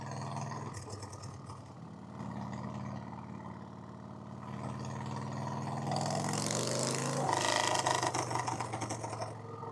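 A 1990 Harley-Davidson Fatboy V-twin with an S&S Super E carburetor idling close by, a steady rattly rumble that swells and revs up slightly toward the end.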